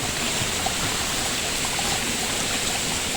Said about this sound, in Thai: น้ำฝนตามโขดหิน แค่นั้นนะครับสไลด์ลงมา